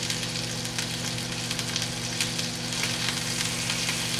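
Pieces of steak fry over high heat in a pan while being flipped, giving a dense, even sizzle with small scraping ticks throughout and no voices.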